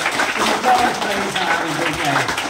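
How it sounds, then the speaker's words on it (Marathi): An audience claps at a school speech, with a dense, steady patter of applause that fills the whole moment while voices carry underneath. "टाळ्या वाजवा."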